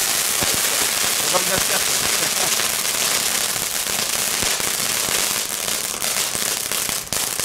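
A firecracker strip bought at Lidl crackles without pause in a dense, loud barrage of rapid pops and bangs, with a brief voice speaking over it.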